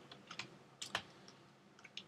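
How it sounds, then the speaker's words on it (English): Quiet, close computer keyboard typing, a handful of light irregular key clicks spread over a couple of seconds with faint room hiss between strokes. "just type in"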